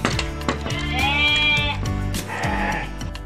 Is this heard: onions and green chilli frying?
no